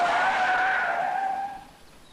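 Police car braking hard from 30 miles an hour on a road during a skid-mark test, with a loud tyre squeal that rings strongly and then fades as the car slows to a stop.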